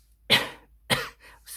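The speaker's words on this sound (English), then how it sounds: "excuse me, a little cough" Two short coughs from one person, close and fairly loud, spaced about half a second apart, with a fainter throat sound trailing after in an otherwise quiet room.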